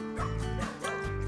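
A dog bows and yips in a steady run of barks along a village path lined with coconut trees, the barks close and loud with no talk over them.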